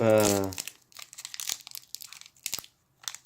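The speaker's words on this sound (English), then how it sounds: "Why am I having so much trouble opening booster packs all of a sudden?" A Magic: The Gathering Shadows Over Innistrad prerelease booster pack is torn open with a series of sharp crinkles and rips close to the mic, following a brief voice at the start.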